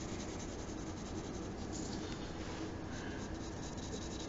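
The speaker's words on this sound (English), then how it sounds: "My pencil strokes are different there because I'm using a different side of my pencil." A pencil shades on paper during a blending sphere drawing demonstration, producing a continuous soft scratching of close, repeated strokes, near and even, with no talk.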